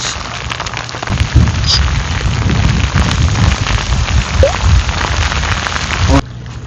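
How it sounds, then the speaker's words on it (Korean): Heavy rain pounds steadily down on a fishing boat out at sea during a squid-fishing trip, a loud, dense hiss and patter close by, with scattered thumps and faint voices mixed in. "또 비가 때려"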